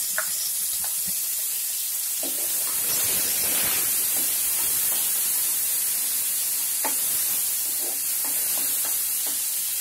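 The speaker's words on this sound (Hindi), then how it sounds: "अब इसमें प्याज का पेस्ट डालते हैं" Onion paste frying in a pan for chana masala gives a constant broad sizzling hiss throughout, with scattered small pops and crackles, close by and with no talking.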